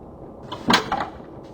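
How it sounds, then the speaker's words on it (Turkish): A door in the Evil Nun video game bangs once in a short, sharp burst, followed by a softer rattle, set against quiet ambient background. "Kapı seslerini duyuyor."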